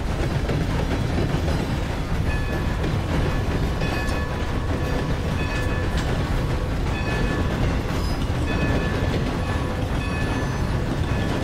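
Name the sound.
hijacked train running in the video game Red Dead Redemption 2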